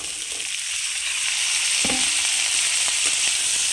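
Sajna drumsticks frying with browned onions in a pan, a steady loud sizzle with a brief clatter and stirring sounds partway through.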